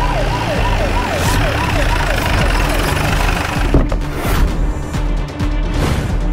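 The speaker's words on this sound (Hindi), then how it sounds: "तभी वहां सबको एक पुलिस सायरन सुनाई दी।" Police siren wailing loudly and close, its rising and falling tone repeating several times before fading into traffic noise, with voices speaking over the latter part.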